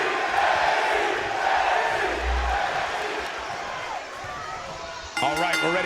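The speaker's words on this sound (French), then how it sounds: "Et la foule qui est en délire, hein." A wrestling arena crowd in WWE 2K20 roars in a continuous cheering wash, with a commentator's voice breaking in near the end.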